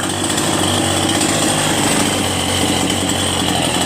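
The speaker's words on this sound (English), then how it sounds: "Idle's nice and smooth too. That's why I love steel chainsaws. They run so nice." A fully rebuilt Stihl chainsaw's small two-stroke engine idles steadily up close, a dense continuous buzz with no breaks or revving.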